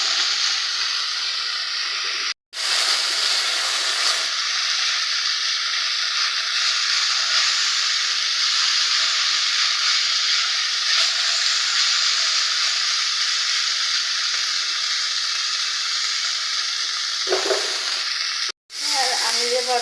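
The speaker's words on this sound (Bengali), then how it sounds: "না ঢেকে দিয়েই ভাজি করবো।" Drumstick (sajne) flowers frying uncovered in oil in a pan: a loud, continuous close sizzle and hiss that holds steady throughout, broken by two brief drops to silence.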